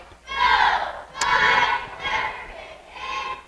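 High school girls' JV basketball cheer squad at Fremont shouting in unison at half court, four loud, rhythmic bursts of chanted cheering with a crowd-like texture, fairly near and clear.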